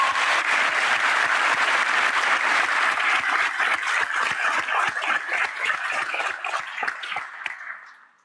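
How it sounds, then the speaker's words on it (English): An audience at a 2025 public health school graduation ceremony gives a loud, sustained round of applause, many hands clapping together before the sound tapers away to silence. "So let's give a round of applause to them."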